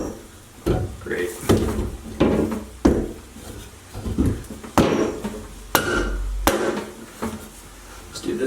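Repeated sharp knocks from an impact driver used as a hammer during a shower mixing valve replacement, struck unevenly about a dozen times over several seconds, close and fairly loud, with clattering in between.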